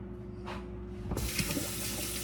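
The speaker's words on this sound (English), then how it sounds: "I'm gonna wash my hands in my cutting board and get ready for my avocado." A kitchen tap runs over a cutting board and a person's hands as they wash up, the water rushing steadily and close, loudening partway through into a full broad splash that holds to the end.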